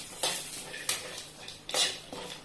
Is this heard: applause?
no